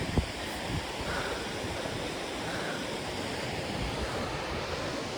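Waterfall at an unplanned roadside stop in Iceland in October, heard as a steady, dense roar of falling water with wind buffeting the microphone throughout, no voices present.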